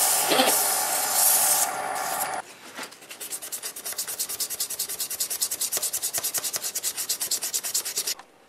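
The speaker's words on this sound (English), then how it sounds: "After, of course, a little bit of sanding." Sandpaper hissing against wood spinning on a lathe, starting with a loud broad rush, then a steady, rapidly pulsing rasp that continues before stopping.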